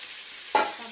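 Cauliflower, pointed gourd and ridge gourd hit hot oil and frying spices in a pan, giving one sudden loud sizzle that quickly settles into a softer crackle.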